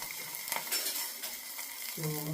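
Curry leaves, ginger and green chilli crackling in a hot tempering for upma, a bright close sizzle with a few spoon clinks against the pan, with a brief tonal hum near the end and no talk.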